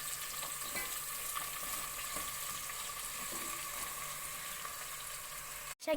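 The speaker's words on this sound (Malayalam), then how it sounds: "എണ്ണ ഒഴിച്ചതിന് ശേഷം സവാള, തക്കാളി, വെളുത്തുള്ളി, ഇഞ്ചി, പച്ചമുളക് ഇതെല്ലാം കൂടി ഇത് മാറുന്ന വരെ ഒന്ന് വശക്കിയെടുക്കണം." Onion, tomato, garlic, ginger and green chilli sauté in hot oil for a chicken curry, giving a steady, even sizzle that runs unbroken throughout, with a sharp knock right at the end.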